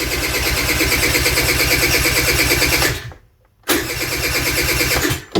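A 2007 Vespa LX50 two-stroke scooter cranks without starting, a loud, close, rapid pulsing starter churn that stops briefly for about half a second, then resumes at the same steady rhythm.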